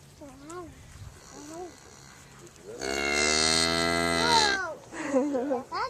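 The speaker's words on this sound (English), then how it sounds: "Do you like the cows, Lizzie?" Cattle on a farm low and moo nearby, a long, loud bellow following shorter calls, with people talking softly around them.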